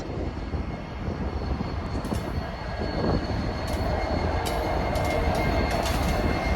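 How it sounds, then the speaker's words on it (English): A CN eastbound freight train rumbles steadily past nearby, a loud broadband roar with rattling wheels and clanking cars that stays constant throughout. "we got a CN Eastbound train coming down the line"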